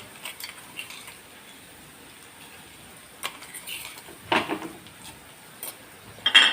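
A spoon mixes crushed whole spices into fried ginger, garlic and chilli in a pan for kachori filling, giving sparse, close metallic scrapes and clinks, growing louder toward the end.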